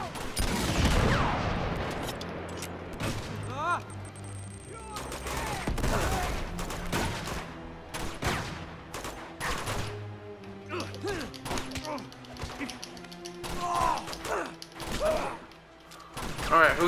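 Gunfire in Uncharted 2, with scattered bursts of shots and sharp impacts that come in irregular clusters, some close and loud and others fainter, while a voice talks between them.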